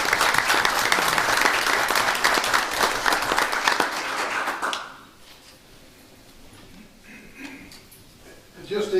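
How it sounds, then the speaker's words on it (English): Audience members at a city council meeting give a loud, dense round of applause that lasts about five seconds and then stops abruptly. After that the room is quiet, with faint rustling and a few soft bumps. "Can I give them a round of applause,"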